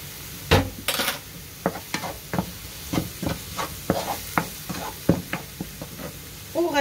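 Onion frying in a small pan with spices and salt, a steady sizzle broken by repeated close knocks and scrapes of a utensil stirring against the pan, no talking.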